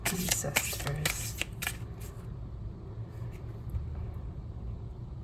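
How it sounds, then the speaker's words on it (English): Tarot cards being shuffled by hand, a flurry of quick crisp riffling snaps for about two seconds, then a quieter pause with a few faint card flicks over a low background rumble. "I shuffle the cards, there's a pause before getting the answer."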